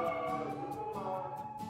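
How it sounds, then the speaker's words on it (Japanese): A police car siren wails in a short, steady passage with a rising and falling tone, fairly loud and heard alone. "パトカーでした"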